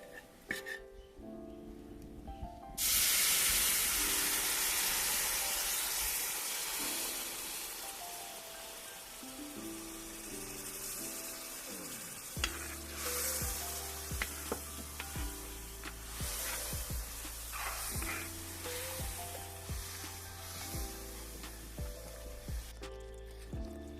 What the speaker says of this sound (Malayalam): നന്നായിട്ട് എണ്ണ തെളിയുന്നവരെ നമ്മളിങ്ങനെ വാട്ടിയെടുക്കണം കേട്ടോ.